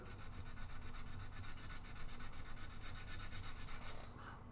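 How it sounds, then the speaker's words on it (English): Steady rhythmic rasping of sandpaper on wood of a guitar being built, close and continuous, with even back-and-forth strokes and no voices. "If that sandpaper isn't completely worn."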